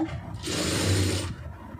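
A sewing machine stitches a short run on fabric, a quick whirring burst lasting about a second amid quiet handling sounds, with no talking.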